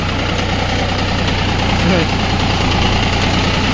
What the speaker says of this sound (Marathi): भाग्या ट्रॅक्टर चालवत आहे